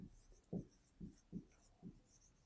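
A pen writes out a Class 8 maths solution by hand: five soft, evenly spaced scratching strokes on paper, quiet and close, with no talking.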